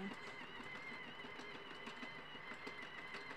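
A JAMIT 48 knitting machine runs without yarn, giving a faint, steady mechanical whir with a quick repeating clatter, like a small motorized carriage cycling continuously.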